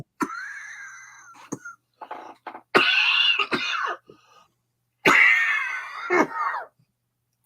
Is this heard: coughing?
yes